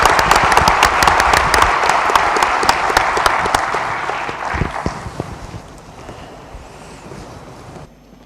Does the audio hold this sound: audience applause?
yes